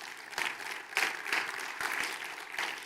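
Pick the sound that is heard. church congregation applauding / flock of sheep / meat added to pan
church congregation applauding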